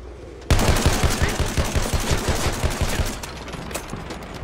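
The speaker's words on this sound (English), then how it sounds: "Machine gun, look alive!" Rapid bursts of machine gun fire in the World War I shooter Battlefield 1 during a Ballroom Blitz match, loud and close, a fast rhythmic stream of shots starting abruptly and continuing throughout with no voices.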